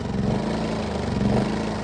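An engine idling unevenly with its overload light flashing, giving a dense, steady mid-pitched chug with slight wavering, loud and close with no talk over it.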